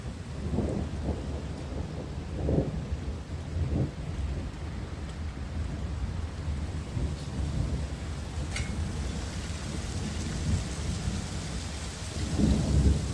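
Hail falls amid steady rain during a storm with wind, and thunder rumbles low several times over a constant wash of precipitation, with a louder crack near the end.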